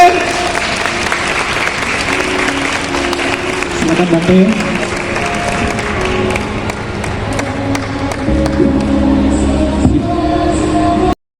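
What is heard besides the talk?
audience applause for Bhante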